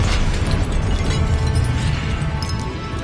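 Confringo blasting spells bursting in Hogwarts Legacy on PS5, a dense, continuous rumble of loud explosive booms and crackling debris with no pauses throughout.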